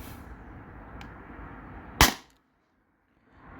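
A single sharp air rifle shot at a can in a backyard plinking session comparing .50 and .68 caliber Beeman BP50 and Salt Supply S2 guns, one crisp crack over a low ambient hum, followed by near silence.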